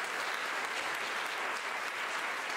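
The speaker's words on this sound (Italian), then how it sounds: "un bel applauso, via di incoraggiamento" Dense, sustained applause from a large audience, steady and loud throughout with no voices standing out.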